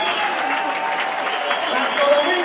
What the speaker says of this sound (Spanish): El aplauso fuerte, que ya nos vamos